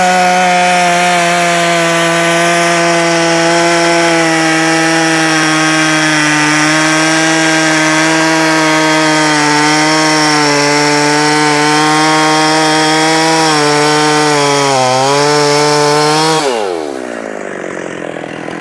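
A Husqvarna 365 Special chainsaw screams close by at high RPM for about sixteen seconds with a steady harmonic whine, dipping briefly near the end before it cuts off and the engine winds down.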